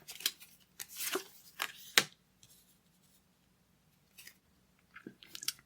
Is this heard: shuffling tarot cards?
yes